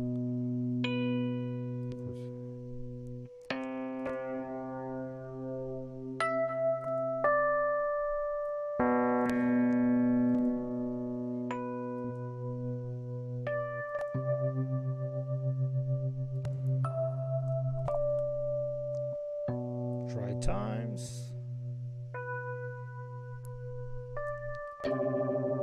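Rhodes electric piano notes and sustained chords with a warbly, processed tone, playing slowly with pauses between phrases; a brief swooping slide effect appears near the end.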